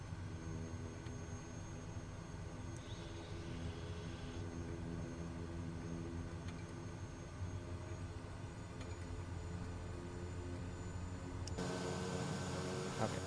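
A simulated airliner engine, SkyWest 510 on runway 8 in Microsoft Flight Simulator, drones steadily with layered tonal hum, then swells louder and brighter near the end as the throttle is pushed up for takeoff.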